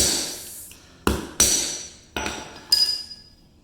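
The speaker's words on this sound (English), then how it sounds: "Stick that right in there like that, and you're gonna smack it with the hammer." Four sharp hammer strikes ring against a metal tool while a Chamberlain garage door opener belt is retrofitted, each hit crisp and close with a brief metallic ring, spaced unevenly with no talk.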